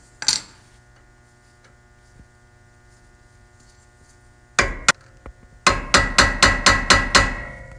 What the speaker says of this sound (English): you're going to take the hammer and you're going to collapse this compression ring